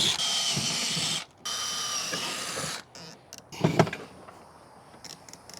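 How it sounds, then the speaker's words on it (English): Power drill boring holes in a trolling motor bracket, a close high-pitched whine for a couple of seconds, a brief stop, then another burst that trails into clatter and handling noise. "drill a couple holes in the trolling motor bracket"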